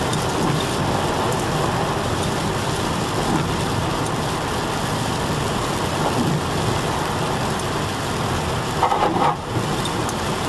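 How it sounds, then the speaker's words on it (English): Dense, steady rainfall drums and hisses on pavement, a constant loud wash of water with a faint engine rumble underneath. "Man, pretty heavy rain actually."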